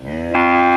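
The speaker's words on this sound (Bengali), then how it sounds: "গরু ডাকতে যাচ্ছে" A cow lets out a single close, loud moo that starts low and rises into a fuller, steady bellow lasting under a second.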